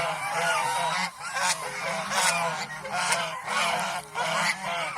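A flock of farm geese, mostly young birds with a few older ones, honks in loud overlapping bursts that rise and fall in a steady rhythm close by, with no voices.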